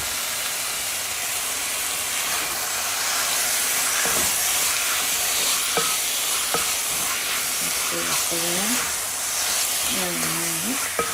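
Chicken frying in a pan for a Kerala-style kanthari chicken, with a steady broad hiss and sizzle, a few sharp utensil clinks as it is stirred, and a voice speaking briefly over it.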